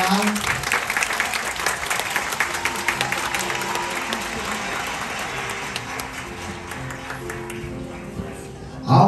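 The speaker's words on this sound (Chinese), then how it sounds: "掌声给我们的爸爸妈妈" Applause from wedding guests in Taiwan honoring the bride's and groom's parents, a dense steady patter of many hands clapping for several seconds with voices and music mixed underneath, ending in a sudden louder burst.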